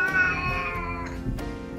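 A pet cat gives a short drawn-out meow indoors, fairly close but not loud, with a faint second mewing note near the end and no talking.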